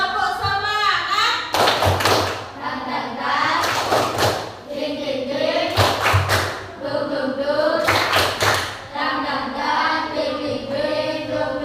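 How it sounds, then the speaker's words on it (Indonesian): Group spirit clap (tepuk semangat) performed by a class, with sharp bursts of unison clapping in a steady rhythmic pattern, alternating with voices chanting between the claps. "Oke, tepuk semangat."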